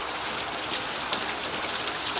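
The season's first rain falls in a steady, close hiss of dense drops with faint scattered patters and no voices.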